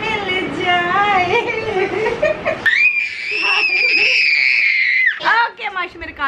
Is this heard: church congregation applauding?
no